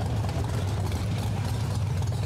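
A loud Bronco truck engine idling in the MudRunner video game, with a steady, deep, rumbling drone that holds constant throughout at close range.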